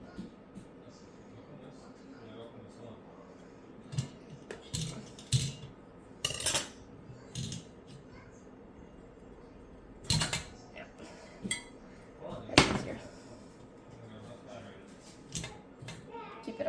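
A knife scraping and knocking against metal loaf pans to pop out freshly baked cinnamon raisin bread, giving irregular clinks and scrapes close by with quiet stretches between them.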